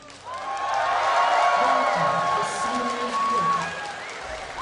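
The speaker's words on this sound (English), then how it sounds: "let me hear you cheer for Legion" A large crowd cheers and roars continuously at a distance at an esports event, PAX NA Regionals CLG vs Legion, a sustained wash of voices with an announcer speaking over it.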